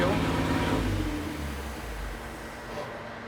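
A supercharged 1962 Slant Six on a dyno, its engine drone tapering off as it shuts down, with voices talking over it.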